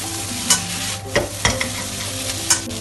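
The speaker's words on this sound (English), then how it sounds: "stir it around" Ginger beef char kuey teow noodles are stir-fried in a hot wok with garlic, eggs, soy sauce, fish sauce and dark caramel. A steady sizzle runs underneath while the spatula scrapes and clatters against the metal in several sharp, close strokes.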